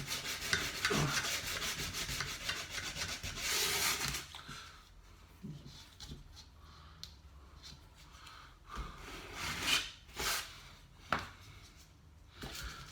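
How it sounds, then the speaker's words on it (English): Sandpaper rubbed by hand in a steady, loud rasping stretch for about four seconds, followed by fainter, scattered scraping strokes and small knocks. "get a little bit of sandpaper"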